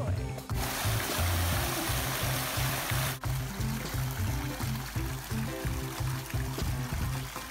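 Steady rushing water of a small stream or waterfall, continuous and fairly close, with low rhythmic thumping underneath throughout.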